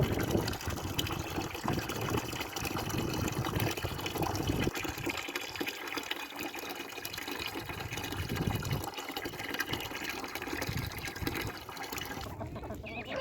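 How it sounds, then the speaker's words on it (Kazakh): Water poured out for chickens splashes and gushes steadily from a pail, close and continuous, while hens cluck faintly in the background and the pouring thins out near the end. "Қазір салқын суды, түннен қалған суды төкіп тастаймыз."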